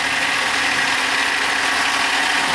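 A Moscow Yandex taxi car idles with the hood open, its motor close and loud in a steady mid-to-low rumble with faint vibration, no talk over it.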